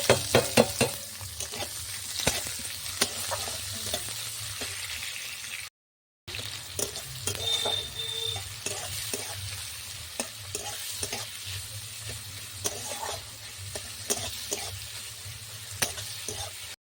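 Chopped onion with bay leaves hits hot oil in a pan, giving a bright crackling sizzle punctuated by repeated spatula scrapes and taps, with a brief silent gap partway through.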